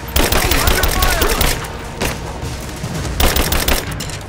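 Dense, continuous gunfire from the video game Rise of the Tomb Raider, a loud rolling fusillade with heavy booming bursts filling the whole stretch.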